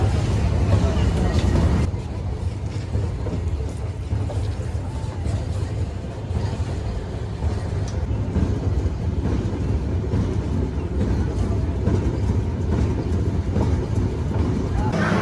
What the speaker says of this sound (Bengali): এরপর ট্রেন আবারও ছেড়ে যাচ্ছে বেনাপোলের উদ্দেশ্যে